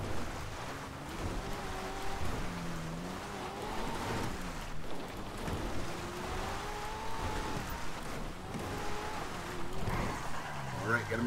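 Street race cars driving through rain in Los Santos in GTA 5, with a steady engine drone and revving rising and falling over a continuous wash of rain and road spray, while someone talks over it.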